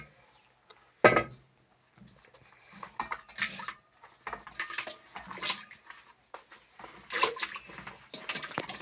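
Cassava pieces being washed in water, with a sharp splash near the start followed by intermittent sloshing, rinsing and light clattering bursts, close and moderately loud, with no talking.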